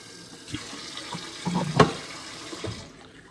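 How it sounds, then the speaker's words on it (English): Water from a tap runs into a Clearly Filtered water filter pitcher, an uneven stream with a few louder splashes near the middle before it tapers off. "So we're going to fill this up really quick."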